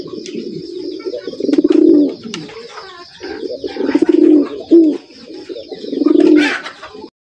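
A big breeding pigeon at a pigeon farm coos loudly in three rolling, throaty bursts, each swelling and fading, with softer chirps and faint background bird calls between them.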